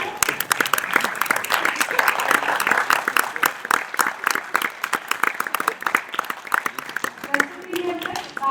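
Audience applause at a ceremony as event staff are credited, crisp individual claps rising into sustained clapping, fairly close, with some voices mixed in and the clapping thinning toward the end.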